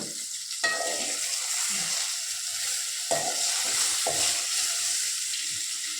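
Okra sautéing in a pan gives a steady sizzle with several sharp scrapes and stirs of the spoon against the pan, close and fairly loud.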